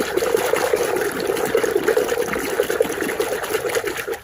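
Running water splashes steadily over small toy cars being washed clean, a continuous close trickle and gush with no one talking.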